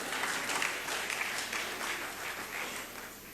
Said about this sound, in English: I will wait for you to applaud this.